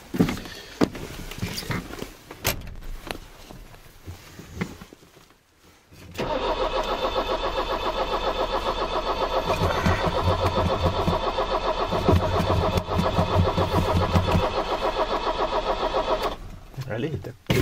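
A car suspected of a head gasket leak or a weak battery cranks and then catches, giving a sustained, loud mechanical whirring and rumble that runs for about ten seconds, preceded by talking and handling noises.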